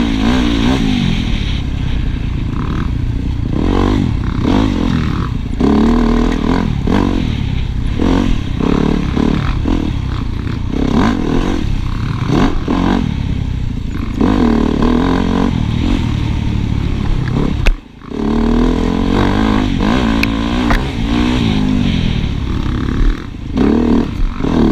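A Yamaha YZ250FX dirt bike is ridden hard, its engine roaring loud and continuous with repeated rises and falls in revs and a brief dip near the end.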